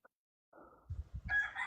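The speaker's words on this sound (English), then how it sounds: "What's up with that cockadoodle in the back? What's up with that rooster?" Rooster crowing faintly in the background, a short harsh call rising over a few dull low thumps and rustles nearby. The call is brief and somewhat distant.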